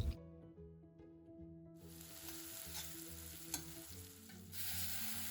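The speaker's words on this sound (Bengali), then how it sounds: "পেঁয়াজ কুচি ছেড়ে দিয়ে হালকা একটু লবণ দিয়ে এটাকে একটু ভালো করে সটে করে নিলাম" Chopped onion sautés in hot oil with a little salt in a pan for a shrimp and pumpkin curry, giving a steady close sizzle with stirring and scraping throughout, the frying growing louder toward the end.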